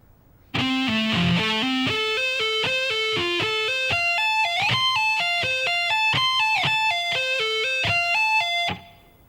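A fast distorted electric guitar lick, played at slow tempo as a steady stream of bright picked and hammered notes, loud and alone for about eight seconds.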